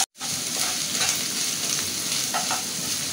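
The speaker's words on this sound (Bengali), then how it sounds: "আমি এখন আদা রসুন বাটা দিলাম, একটু জিরে দিলাম। এটা আমি ভালো করে কষিয়ে নেব।" Ginger-garlic paste and cumin seeds sautéing in a pan, a steady close sizzle with faint stirring scrapes, no voices.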